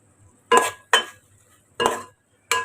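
A spatula stirring a green bean stir-fry with squeezed lemon juice in a pan: four sharp scraping clinks, close and fairly quiet, with near silence between them.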